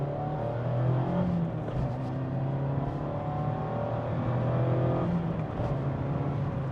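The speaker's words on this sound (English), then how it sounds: "now when it comes to power out of this 2-liter naturally aspirated 4-cylinder" A 2024 Mazda MX-5 Miata Club RF with a 2-liter naturally aspirated four-cylinder engine accelerates on wet ground, its loud steady engine drone rising in pitch through the revs, heard from inside the car with no talking.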